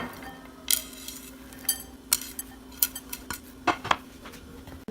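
Metal utensils clink and scrape against a dish as fried chicken pieces, onion and coriander are moved into a bowl, a series of sharp, close knocks spaced irregularly over a faint steady hum.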